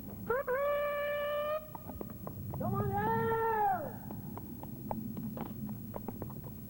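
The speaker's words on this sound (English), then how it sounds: "the sound of the hounds' voices as they pick up the scent of a fox" Foxhounds on a fox hunt give voice as they pick up the scent: two drawn-out, wavering howls rise over an outdoor rumble, then scattered short yelps and faint thumps follow.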